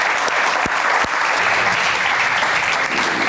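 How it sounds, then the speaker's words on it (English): A live audience at a football fan debate stage show applauds loudly and steadily, a dense wash of clapping filling the whole stretch with a few sharper individual claps near the start. "Big round of applause."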